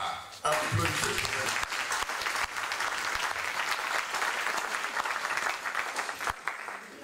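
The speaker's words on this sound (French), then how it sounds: "Clap for her. Applaudissez." Audience at a youth camp breaks into loud, sustained applause, a dense wash of many hands clapping that swells after a brief opening and holds steady throughout.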